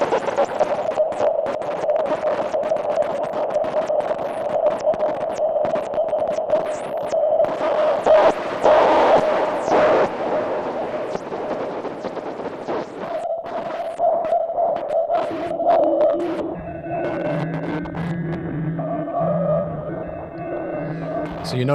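A Moog Matriarch synthesizer runs through its analog BBD delay, giving a sustained, wavering drone with warbling, throbbing repeats that swell and smear, later shifting into stacked pitched tones, loud and continuous without talking.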